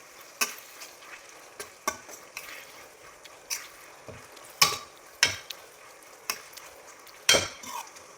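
Neem leaves crackle and sizzle in homemade skin oil heating in a pan, with sharp pops and spits recurring irregularly over a low steady hiss, fairly close and moderately loud.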